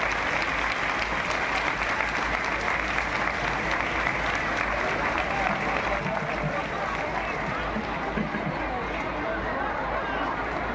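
Large crowd at a political gathering in Morigaon applauding to welcome the chief minister, a long sustained roar of clapping mixed with crowd murmur, loud and continuous from start to end.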